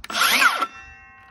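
A Makita XSH04ZB cordless circular saw with a 2 amp-hour battery briefly spinning up with a loud, high whine, then its brake stopping the blade abruptly, the pitch dropping fast into a faint ringing decay.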